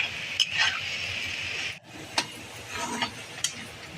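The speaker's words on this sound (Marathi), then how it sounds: "थोडीशी परतून घेतली मेथीची भाजी ही झाली" Fenugreek leaves being sautéed in a pan hiss with a steady soft sizzle, broken by a few light clicks and scrapes of stirring, close and moderate in level.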